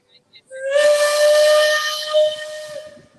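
A loud steam whistle blows with a hissing rush, holding one shrill tone for about two seconds before fading out, at the Magic Kingdom theme park.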